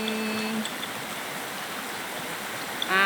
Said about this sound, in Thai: นี่แหละ แม่น้ำเย็นเย็น